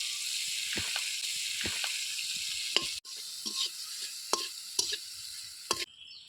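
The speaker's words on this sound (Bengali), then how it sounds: "প্রথমে শুটকি মাছটা আমি ভেজে নামিয়ে নেব।" Dried fish (shutki) frying in oil in a pan, a steady loud sizzle broken by occasional sharp scrapes and clinks of a spatula stirring the pieces, with no talking.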